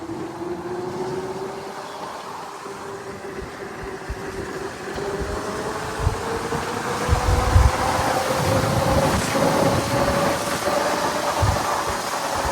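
A custom Brute motorcycle engine pulls hard and climbs in pitch as it accelerates, a steady loud drone that rises over several seconds with wind rush, no talking.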